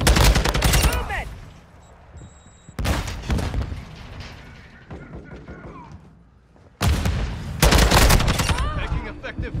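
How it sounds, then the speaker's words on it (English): Bursts of rapid automatic gunfire in a Call of Duty match, loud and close, in heavy volleys at the start, middle and end with quieter scattered shots between. "Taking effective fire."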